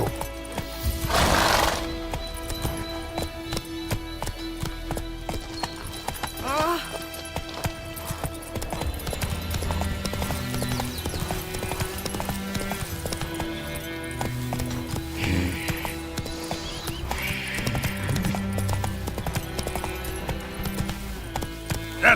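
Roach, a horse in the video game The Witcher, gallops with rapid, rhythmic hoofbeats and gives a neigh, alongside game sounds and a voice speaking in the background.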